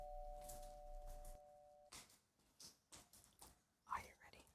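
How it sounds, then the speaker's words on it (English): A doorbell chime rings at the start, clear and sustained, followed by soft, breathy voices speaking in a quiet indoor setting. "I hear a doorbell."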